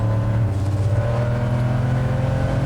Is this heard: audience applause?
no